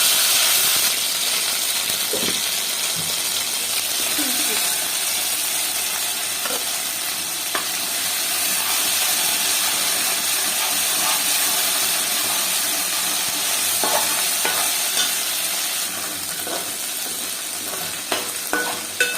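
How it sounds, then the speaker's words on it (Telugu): Ginger garlic paste fries in hot oil for a mutton gravy, giving a loud, continuous sizzle with occasional stirring scrapes and clicks of a spoon, close up and without talk. "నూనె కాగింది, అల్లం వెల్లుల్లి పేస్ట్ వేసుకున్నాము."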